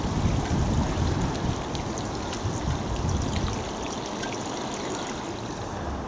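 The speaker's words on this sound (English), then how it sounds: "Just give them a good watering in." Plants in hanging baskets at an allotment get a good watering, a steady splashing, trickling pour that is louder at first and then settles to a softer continuous flow.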